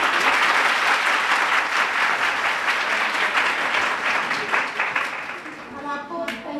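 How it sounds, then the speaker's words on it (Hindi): Sustained, loud applause from an audience at a devotional naat poetry gathering (mushaira), dense clapping filling the whole stretch and thinning slightly near the end. "तालियां बजा दें।"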